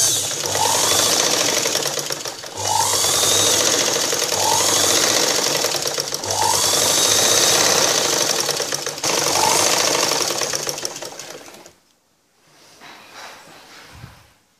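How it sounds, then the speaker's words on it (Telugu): A sewing machine stitches a blouse sleeve edge in loud, close bursts of rapid mechanical whirring, pausing briefly between runs, then stopping near the end, where only faint handling noise remains. "ఈ రాంగ్ సైడ్కి మనం స్టిచ్చింగ్ చేసుకోవాలి."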